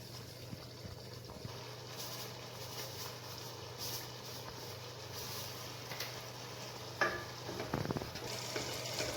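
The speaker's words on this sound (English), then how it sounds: "So just add the red chili powder, give it a stir." Sambar being stirred in a pot after red chili powder and salt go in: a quiet, continuous scraping swirl with a faint sizzle, and a few louder clinks of the spoon near the end.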